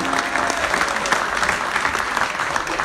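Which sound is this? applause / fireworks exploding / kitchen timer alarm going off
applause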